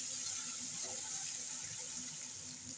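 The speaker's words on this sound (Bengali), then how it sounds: "জল দিয়ে দিচ্ছি।" Water poured into a simmering pan of raw-banana kofta curry gravy, a steady rushing hiss of liquid close by, continuous and fairly loud throughout.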